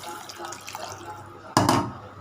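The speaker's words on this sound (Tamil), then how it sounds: "இப்போ கொஞ்சம் தண்ணி ஊற்றிக்கலாம்." Quiet background, then water suddenly pours into a pot with a short, loud splashing gush near the end.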